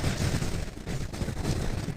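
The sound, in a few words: explosion hitting robot in video game War Robots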